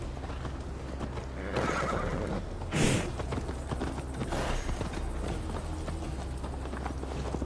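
Horse in Assassin's Creed Valhalla gives a loud whinny in the middle of the stretch, set against steady clopping hooves and a low ambient rumble throughout.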